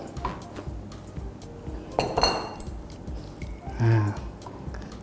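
Spaghetti being tossed through tuna white sauce in a pan, with scattered metallic clinks and scrapes of utensils against cookware, moderately loud at close range, and a louder clatter near the end.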